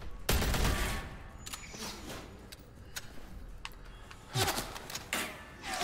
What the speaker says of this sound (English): We're shooting all of these guys